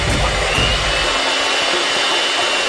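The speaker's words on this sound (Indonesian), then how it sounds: "kita memutuskan untuk menggunakan mixer seperti ini, yang membuat semuanya menjadi lebih baik" An electric hand mixer switched on to whip egg whites for a giant doughnut batter, a loud steady motor whine with a low rumble at the start that then thins to a constant high buzz.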